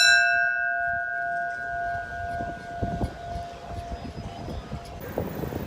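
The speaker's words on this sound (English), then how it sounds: "check out this bell" A ship's bell on a boat rings out with a sustained, ringing tone that slowly decays over several seconds, with later strikes and clatter adding to it.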